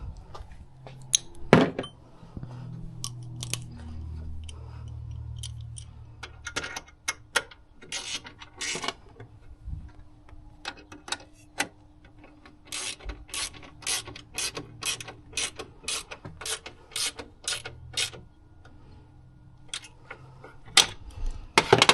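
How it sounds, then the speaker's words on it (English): A hand ratchet tightening bolts on a BMW G20 turbo intake heat shield, bursts of quick sharp clicks between pauses, close and fairly clear, with low mechanical rumble underneath. "Go ahead and switch out ratchets."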